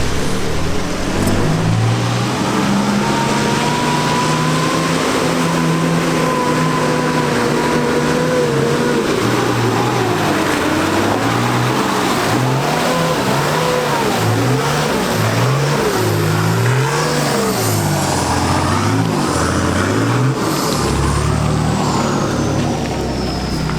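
A 4x4 engine revs hard as the vehicle climbs a slippery offroad hill on worn rear tyres, loud and continuous with rising and falling pitch as the throttle surges and tyres slip, no talk.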